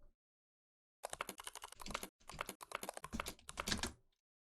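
A computer keyboard is typed on in rapid close clicking bursts after a second of silence, with a brief break midway before the keystrokes resume and then stop.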